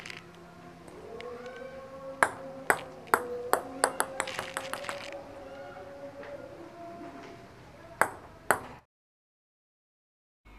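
A table tennis ball dropped from 30 cm clicks sharply on a teak ping pong table, in about a dozen quickening bounces followed by two more later, under a low voice talking.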